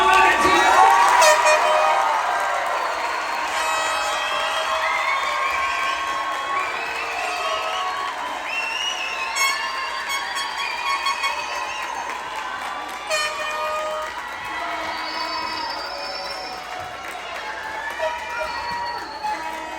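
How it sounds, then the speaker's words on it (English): Fourth grade graduation crowd cheering loudly, with children shouting and whooping throughout, a dense sustained roar of many excited voices that fades only slightly over twenty seconds. "Let's cheer for all the Rocketeers!"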